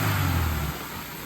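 A flooded Honda F22 engine runs with a loud, rough roar that drops to a steadier, quieter hum after the first moment, close by with no talking.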